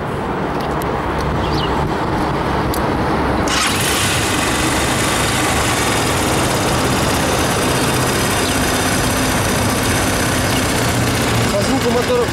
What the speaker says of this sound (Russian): Давайте послушаем мотор.